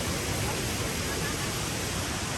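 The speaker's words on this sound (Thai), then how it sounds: "มีน้ำตกก็ไหลสวยจริงๆเลย" Constant, full roar of water pouring down at Kroeng Krawia waterfall in Sangkhla Buri, Kanchanaburi, Thailand, a loud and close rushing wash without a break.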